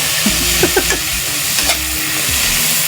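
Garlic and onion sautéing in a pan as they are stirred, a loud close sizzle with a few clanks and scrapes from the stirring, and no talk.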